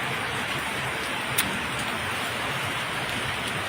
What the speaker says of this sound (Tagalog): patila muna tayo sa ulan dahil malakas-lakas din yung ulan ngayon